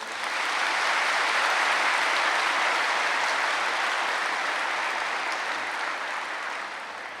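A seated audience of elders at a spiritual gathering breaks into steady, dense applause that holds strong for several seconds before tapering slightly at the end.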